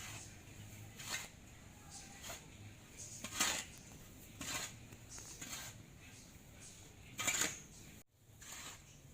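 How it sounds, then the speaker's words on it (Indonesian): Potting medium for grape planting being stirred and mixed in a pot, heard as intermittent gritty scraping and rustling strokes about once a second, fairly close, with short quiet gaps and a brief silence near the end. "Media tadi diaduk semua dan pastikan tercampur biar merata."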